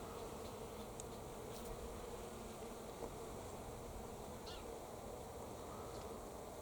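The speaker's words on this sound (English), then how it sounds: "Lots of bees doing their carob bean thing." Bees buzz around the flowers of a carob tree outdoors, a faint, continuous insect hum with occasional brief chirps over it.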